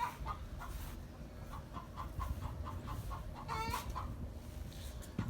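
Chickens cluck softly inside a hen house, with short intermittent calls and one louder squawk partway through, set against a low rumbling background.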